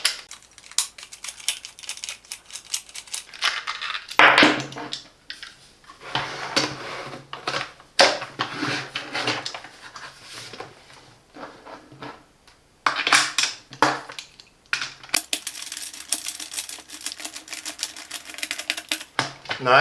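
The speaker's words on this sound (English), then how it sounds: "first I need to remove the screw, so there is no screwdriver included, but no worries, I have my screwdriver" Screwdriver unscrewing a screw on a Silvercrest 2-in-1 handheld and upright vacuum cleaner, heard as close, irregular bursts of clicking, scraping and rattling metal-on-plastic handling with short pauses between.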